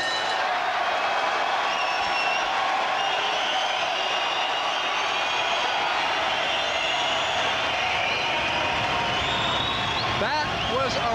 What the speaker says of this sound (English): That was a reaction by the crowd that surely sent a chill down the spines of both these athletes.